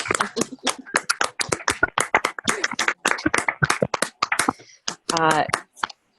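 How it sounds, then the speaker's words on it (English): A few people at a labor union gathering on health and safety clap in a sparse, uneven patter of separate hand claps, fairly close, with a brief voice near the end. "make a real round of applause for the Environmental Health and Safety Committee"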